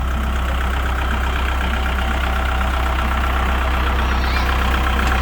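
A steady, close, loud Kubota L5018 tractor engine, original and never rebuilt, idles with an even, rough diesel rumble and faint knocking throughout, and no voices.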